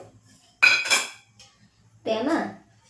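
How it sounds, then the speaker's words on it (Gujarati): A pressure cooker set down on a gas stove while cooking sama khichdi, giving two clanking metal knocks about a second and a half apart, close and fairly loud, with quiet gaps between. "ગેસ ચાલુ કરી અને મેં કુકર રાખી દીધું છે"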